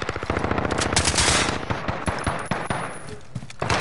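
Rapid automatic gunfire from a Call of Duty Warzone Rebirth match comes in dense bursts, loud and close, with a few separate shots toward the end.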